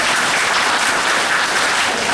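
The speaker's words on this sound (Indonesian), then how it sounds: "tepuk tangan" A crowd at a district community event claps loudly and continuously, a thick, even wash of applause with no break and no talking.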